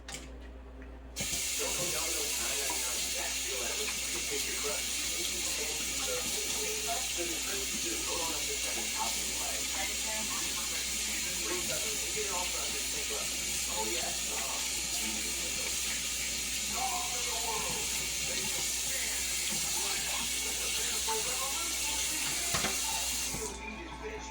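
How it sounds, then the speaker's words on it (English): Tap water runs steadily into a bathroom sink during handwashing, a continuous close splashing hiss lasting over twenty seconds with no talk over it. "We'll wash my hands here."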